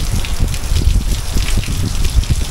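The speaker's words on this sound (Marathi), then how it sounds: "आणि मुसळधार असा पाऊस आलाय." Heavy monsoon downpour in the Konkan countryside near an old temple, a dense steady roar of rain with thick low rumble and continuous hiss, no talking.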